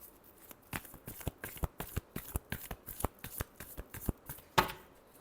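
Tarot cards being shuffled by hand in a run of quick, crisp riffling slaps, close and fairly loud, with one sharper burst near the end.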